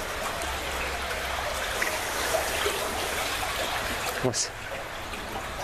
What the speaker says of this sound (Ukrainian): ось це є русло річки підземне